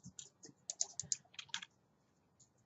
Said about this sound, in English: I'll type them.